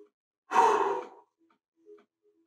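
A single long exhale through the mouth during recovery in a cardio workout, a close breathy whoosh lasting under a second, followed by faint quiet sounds.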